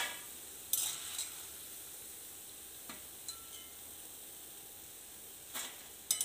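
Boondi frying in oil and being scooped out, a faint, continuous sizzle with occasional sharp clinks of a metal ladle against the pan.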